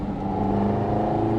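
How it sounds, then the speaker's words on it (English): A Ferrari 308 GTS engine hums steadily from inside the cabin while driving, a close, even low drone with no talk over it. "you can actually hear the engine better in the passenger seat. It's lovely, isn't it? Yeah, you get a real roar."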